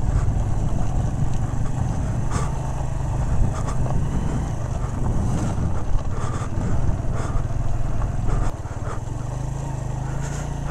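Motorcycle ridden on a slippery road toward a waterfall, a loud steady engine drone close up with wind buffeting, the engine note dropping briefly near the end, no talking.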